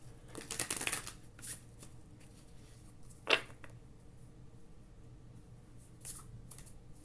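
Tarot cards are shuffled by hand in a quiet room, a soft riffling flutter at the start followed by a single crisp snap and a few faint rustles, close and alone.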